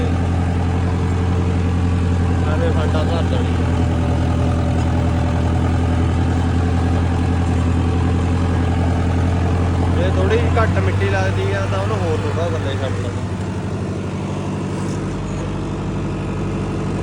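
Tractor engine running steadily in a farm field during laser land levelling, a loud continuous low rumble with a slight shift in pitch partway through, while someone speaks over it.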